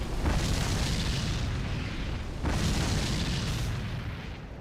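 Pyromancy explosions in the video game Dark Souls 3: two heavy, booming blasts in close succession, each a loud, broad roar that swells and slowly fades away.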